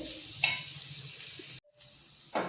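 Sliced bitter gourd coated in masala sizzles steadily in a hot pan as it is stir-fried for a Konkani-style dry vegetable, a soft continuous hiss with a brief clink of the spatula and a momentary break.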